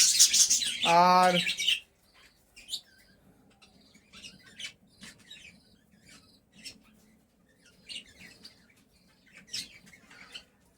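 Small chirps and squawks from caged lovebirds, kept with a clay-pot nest box, come in short scattered bursts at moderate distance after a brief loud call at the start.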